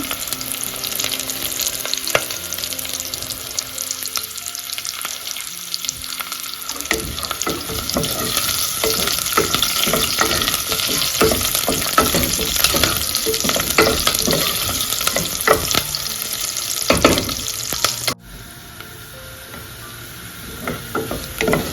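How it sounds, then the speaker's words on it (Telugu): Fenugreek seeds fry in a pan for Telugu menthi pappu, giving a steady close sizzle broken by frequent scraping taps as they are stirred, then a quieter stretch near the end. "మంచి స్మెల్ వస్తూ ఉంది మెంతులు వేగుతూ ఉంటే."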